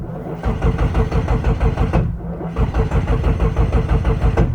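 A Toyota AE86 engine cranks and catches, its rhythmic starter chug breaking off briefly near two seconds before turning over again into a steady, close, loud running engine with no voices.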